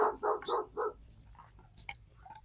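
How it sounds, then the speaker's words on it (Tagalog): A dog barks four times in quick succession, close and loud, then quieter yips and faint sounds follow. "Sinalubong na tayo ng aso."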